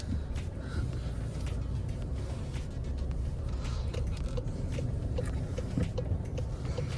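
A 2019 Volkswagen Passat B8 R-Line with a 2.0 TDI diesel and DSG gearbox on the move, heard from inside as a steady, close road-and-engine rumble with scattered light knocks and clicks over about seven seconds.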